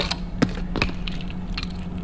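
Keys for a Tomcat floor cleaning machine jangle close by in a few quick metallic clinks over a steady low hum, with no one speaking.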